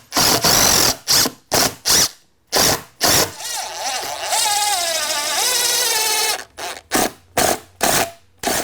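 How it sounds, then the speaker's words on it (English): A power drill drives a 3-inch construction screw into an exterior door frame, giving sharp bursts of ratcheting whir followed by a long sustained run that ends in more short close stop-start pulses. "run this screw in. These are 3-inch construction screws."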